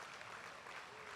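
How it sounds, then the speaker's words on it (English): At a university athletic awards night, a large audience gives a round of applause to the college caterers and the men's volleyball team, a faint, even wash of distant clapping with no break. "Let's give Pioneer College Catering and our men's volleyball team a round of applause for"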